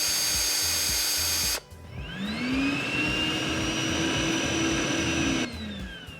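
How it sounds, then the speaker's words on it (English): A power tool drives a Festool CTMC SYS cordless dust extractor, which spools up with a rising whine and roars steadily nearby before winding down as the tool stops. "So as soon as the power tool is switched on, the extractor will turn on"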